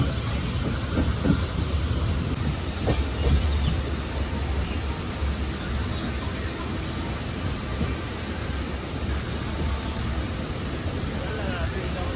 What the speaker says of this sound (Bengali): তো এই ট্রেনটা আমরা এলাম, এটা চলে যাচ্ছে।